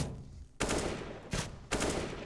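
Gunfire from a CS:GO pro match on Dust2, a spray fired from range: three loud broadband bursts of rapid shots, each lasting about half a second to a second, separated by brief gaps.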